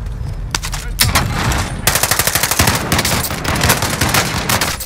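Rapid automatic gunfire in a Warzone match, long rattling bursts of closely spaced shots after a few single cracks, loud and near, with brief pauses between volleys and a voice faintly underneath.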